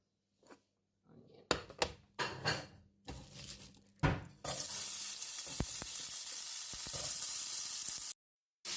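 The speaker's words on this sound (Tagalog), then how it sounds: "So, igisa muna natin yung onion." Onion sautéing in a hot pan for a creamy baked pasta, a steady loud sizzle starting partway through and holding for several seconds, preceded by clatter and bursts of a voice talking, then a brief silence at the end.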